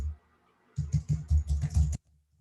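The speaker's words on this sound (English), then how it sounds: "I'm typing it." Quick bursts of typing on a computer keyboard, about a second of rapid, close clicks, with quiet before and after.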